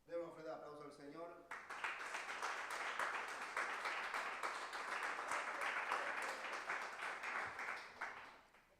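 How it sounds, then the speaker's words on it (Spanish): A congregation in a church claps loudly and continuously for several seconds after a brief spoken line, a dense, sustained wave of applause that fades at the end. "Demos un fuerte aplauso al Señor."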